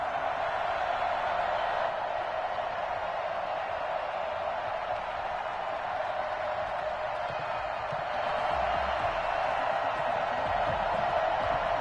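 A stadium crowd roars in an EA Sports football video game before a Denver Broncos versus Indianapolis Colts match-up, a steady, dense wash of crowd noise that holds throughout.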